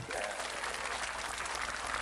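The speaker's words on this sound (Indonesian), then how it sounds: "Tepuk tangan untuk Pak Bupati." Audience applause fills a gathering for a religious study and Q&A session, a steady dense wash of clapping throughout, fairly loud and close, with some voices mixed in.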